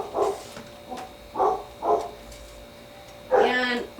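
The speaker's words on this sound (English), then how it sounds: "my dogs are barking at our neighbors" Several dogs barking at neighbors working in the next backyard, a handful of separate barks spaced irregularly, some slightly distant, ending in a louder, more drawn-out yelp.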